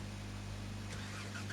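A glitching engine sound from a vehicle in the PS4 game Gold Rush, heard after it is switched off and on too quickly: a short, faint, steady low hum and drone with a slight shift partway through.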